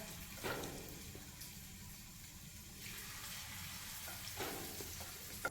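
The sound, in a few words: jackfruit pakavada batch frying in oil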